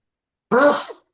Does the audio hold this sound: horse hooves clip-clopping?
no